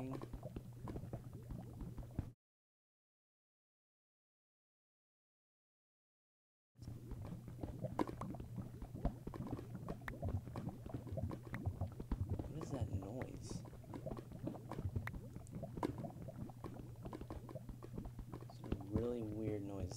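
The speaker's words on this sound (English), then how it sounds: "Like bubbling." Steady bubbling water from a Minecraft survival game, a continuous low burble running throughout with a few seconds of silence, under clicks and game sounds.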